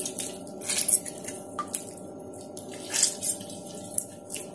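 Homemade mozzarella cheese squeezed by hand to press the water out, giving soft wet squishes and drips in several bursts over a steady low background hum, close and fairly quiet, with no talking.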